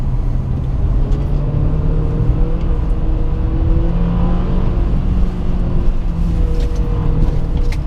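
A 2017 Honda Accord Sport CVT family sedan on stock tires takes a corner, its engine and road noise forming a steady, close drone with no talking.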